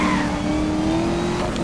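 Mercedes SLS with a 6.3-litre engine revs hard in Need for Speed Most Wanted, a loud, close, steady engine tone rising slightly alongside faint tire squeal, no voices.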